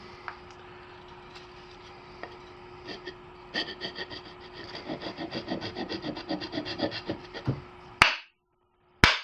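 Close, rhythmic rasping strokes of a tool shaving down a wooden throwing axe handle for a slip fit, building in pace and loudness before a couple of sharp knocks at the end.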